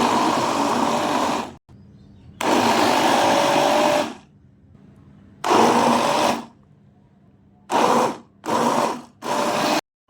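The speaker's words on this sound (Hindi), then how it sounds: "यहाँ पर मैंने तमाम जो है प्याज और टमाटर और सब्ज़ मिर्चें जो हैं उनको मैंने ब्लेंड कर लिया" Blender blending softened onions, tomatoes and green chilies, a loud close motor whir running in bursts, one long run and several shorter pulses with quiet gaps between.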